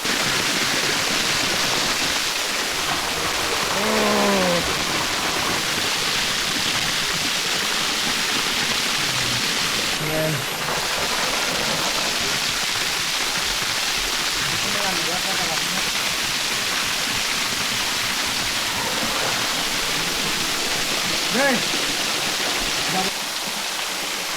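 A large waterfall roars with a steady, dense rush of falling water that fills the whole scene continuously and loudly, with faint voices now and then beneath it.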